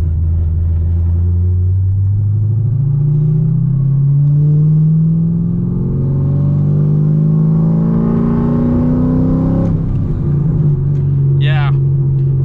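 Cammed C6 Corvette V8 climbing steadily in revs toward about 4,000 RPM while driving, a loud rising engine drone that builds for several seconds, then drops and settles after a shift.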